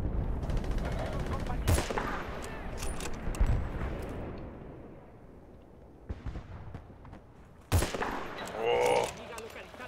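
Gunfire from Battlefield Bad Company 2 cracks in sharp bursts and single shots, with a couple of heavy blasts standing out over an ongoing battle din while someone talks over it.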